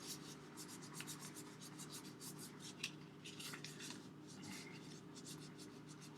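Oiled hands rub together close by, giving a faint, soft, steady swishing friction with a few brighter scrapes.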